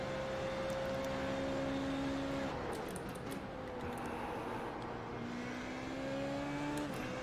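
A racing car's engine drones steadily in a video game at the Nürburgring, played on a Valve Index at 120 Hz, its pitch holding, then dipping briefly and climbing again as the driver shifts and accelerates.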